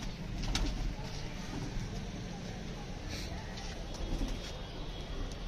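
Low, soft cooing of pigeons mixed with shuffling and rustling, steady throughout at moderate distance.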